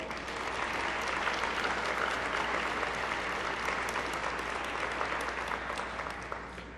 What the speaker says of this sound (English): may we have a big round of applause for everyone at Samsung who has made this night possible